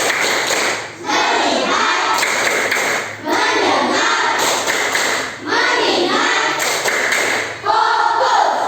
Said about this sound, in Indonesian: Coba semuanya tepuk fokus.